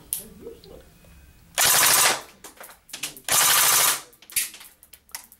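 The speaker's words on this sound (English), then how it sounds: "Watch the blowback and listen to the blowback function on the Beretta ARX160." Elite Force Beretta ARX160 airsoft AEG fires two loud, close bursts of rapid automatic shots with a mechanical blowback rattle, one after the other, with faint talking and handling noise in the gaps.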